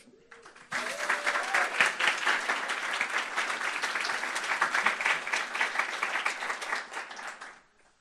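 Applause from a museum audience at an evening talk, honoring the Tenement Museum staff, breaks out after a brief murmur and holds as steady, dense clapping for about seven seconds before trailing off.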